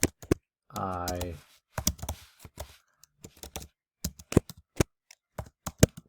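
Keyboard typing in short clicky bursts during a Latin lesson, with a spoken voice at the start and quick key taps clustered after it.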